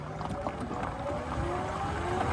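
An EGO Power+ T6 electric riding lawn mower drives at full speed while towing compost, a steady whirring drone with a slowly rising motor whine over outdoor rumble, near and moderately quiet.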